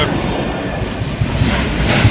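A train rumbles past close by at a railway level crossing in Wankaner, a loud continuous roar with rattling clatter from the wheels.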